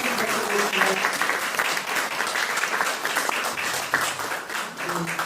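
Warm applause from the audience at a Democratic Party Supreme Council meeting held at the Ganghwa Peace Observatory, honoring an Incheon candidate: an even, sustained roar of many hands clapping, with faint voices underneath.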